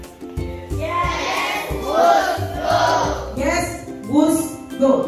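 A classroom of Indonesian students chants a rhythmic clap cheer together in unison, a loud group call with repeated surges of voices over steady claps, as during a teacher's ice-breaking activity.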